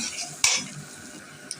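Sour mango cooked with sugar in a pan is stirred, a sharp scrape of spoon against metal followed by quieter scraping and a light clink, close and alone.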